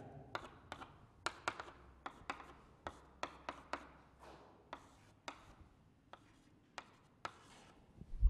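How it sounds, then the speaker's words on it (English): Marker or chalk strokes on a board during a chemistry lesson on aldol condensation, heard as a series of sharp, separate taps and short scratches in an irregular rhythm over a quiet room, with no talking. "so let me write that"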